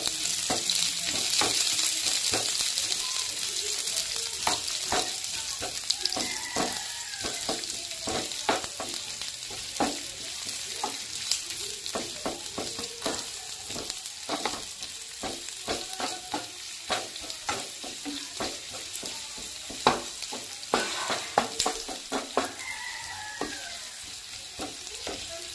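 Chopped onions fry and get stirred in a hot pan, a steady crackling sizzle broken by frequent sharp scrapes and clicks of the spoon against the pan, close and continuous with no voices.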